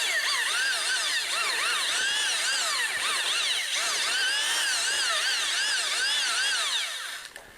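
A power drill with a mixing paddle churning thinset mortar for tile, whining at a steady high pitch with wavering sweeps in speed, loud and close, then slowing and stopping at the end.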